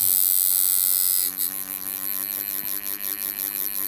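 Coil tattoo machine running at about 8.5 volts, a steady close electric buzz with a rapid hammering hum that shifts in tone after about a second and keeps going with no talking.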